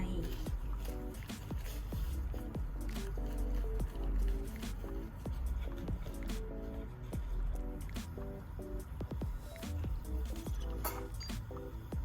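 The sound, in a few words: adding tea to sparkling water for cold brew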